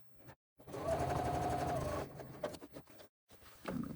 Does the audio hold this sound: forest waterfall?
no